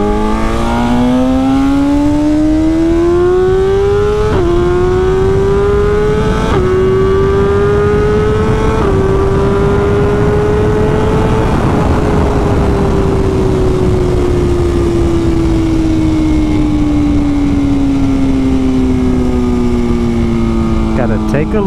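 A 2021 Ducati Panigale V4 SP motorcycle engine drones steadily while riding, its pitch climbing through a few quick shifts and then easing down, loud and close with wind noise throughout and a voice talking over it.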